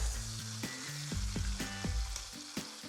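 Beef steaks hiss and crackle in a hot pan as they go in, with a loud sizzle punctuated by several clanks and scrapes of metal in quick succession.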